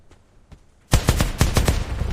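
Gunfire in the Free Fire video game erupts after a quiet start, a rapid burst of loud sharp shots fired in quick succession.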